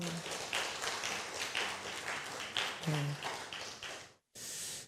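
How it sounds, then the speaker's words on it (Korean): Applause from a congregation at a Friday night church worship service, individual claps audible in an uneven rhythm, moderately faint, then a brief gap and a renewed burst of noise at the end. "박수 한번 쳐주세요."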